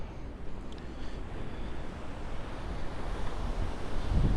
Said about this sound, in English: there's the ocean right there. And there's all the rocks